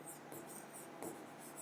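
Marker or chalk writing on a board during a physics lesson, a series of soft rhythmic scratching strokes close by, faint and steady with short pauses between strokes.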